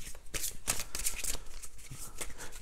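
A deck of cards being shuffled by hand, a close, quick run of crisp riffling and flicking bursts with a final sharp snap as a card is drawn; no voices.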